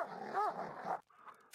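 Dog in the Stronghold: Definitive Edition video game, a short growling bark with a rising yelp, fairly close and clear, followed by a fainter trailing sound after a brief gap.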